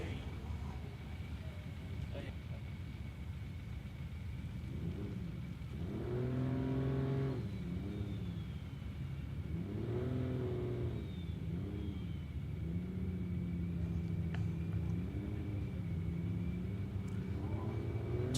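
A turbocharged LS-powered ute and a turbocharged Mustang launch side by side at Warwick Dragway, engines rising in harmonic pitch through two loud acceleration surges, then a sustained steady roar over a constant rumbling track ambience.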